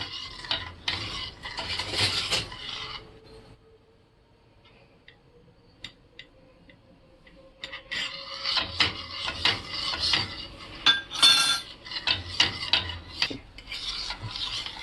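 Skin whitening mixture stirred in a pot, bursts of rasping, scraping strokes of a utensil against the metal with a quiet pause midway before brisk stirring resumes.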